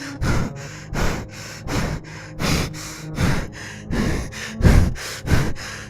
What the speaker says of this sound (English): Why would you breathe like that?